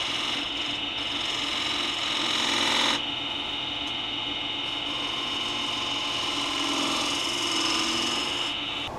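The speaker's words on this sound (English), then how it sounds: "Finish up the tenon with a 1/2 inch spindle gouge" A wooden tenon being turned on a lathe with a half-inch spindle gouge, giving a continuous loud scraping rasp over the motor's hum that shifts in tone partway through as the cut changes.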